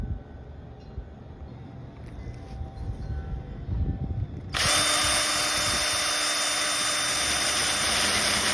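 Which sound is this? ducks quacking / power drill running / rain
power drill running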